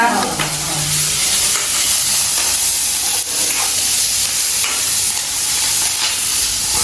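Onions fry loudly in a pan for Jaffna tuna fish curry, a continuous close, hissing sizzle throughout with faint stirring knocks and no talk.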